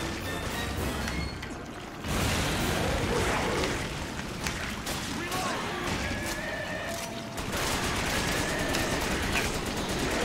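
Resident Evil 5 machine gun fire crackling in scattered bursts amid busy game noise and other effects, with talk over parts of it.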